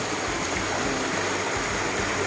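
Small stream of water where two creeks branch apart on a rural property, flowing with a steady broadband rush and trickle, close and continuous, with no voices.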